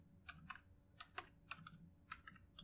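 Soft, close keystrokes tap on a computer keyboard in quick irregular bursts of several presses while code is typed into MATLAB, with no voices.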